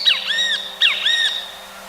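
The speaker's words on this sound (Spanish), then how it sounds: "un pájaro de lomo pardo y pecho amarillo, que tenía una mancha blanca en la cabeza" A great kiskadee, or benteveo, gives two loud, clear whistled calls in quick succession, each a rising then arching note, over a steady low hum.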